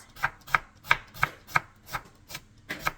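A knife chops onions on a board in about nine crisp, evenly spaced strokes, close and loud, with no voices.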